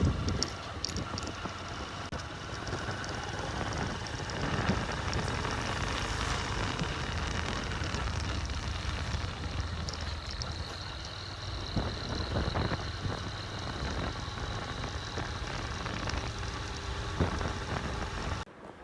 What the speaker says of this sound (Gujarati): અમારે તો વરસાદ છે અહીંયા.